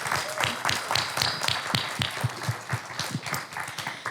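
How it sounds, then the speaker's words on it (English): An audience at a museum program applauds for speakers, a moderate, fairly sparse round of clapping heard from within the room and sustained for several seconds. "Can we please give them a round of applause?"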